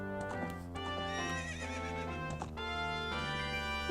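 In Ocarina of Time, the horse Epona gives a long, loud whinnying neigh close by, rising and wavering across several seconds, with a faint hoof clop and no talk.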